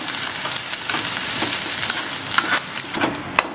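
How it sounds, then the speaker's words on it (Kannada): Andhra-style chutney stirred in a still-hot pan after the stove is switched off, giving soft sizzling with repeated scraping strokes of a spoon against the pan, close and steady, without speech. "ಆ ಬಾಣಲಿ ಬಿಸಿ ಇರುತ್ತಲ್ಲ ಅದರಲ್ಲೇ ಸ್ವಲ್ಪ ಮಿಕ್ಸ್ ಮಾಡಿದ್ರೆ ಸಾಕು"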